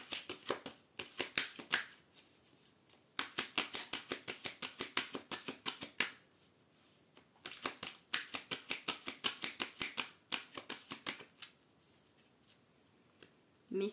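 An oracle card deck is cut and riffled in bursts of fast crisp shuffling, close and clear, separated by short quiet pauses.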